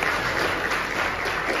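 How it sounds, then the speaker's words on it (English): Brief, steady applause from an audience for a live physician panel, a dense even patter of clapping with no break. "So let's give them a round of applause for you"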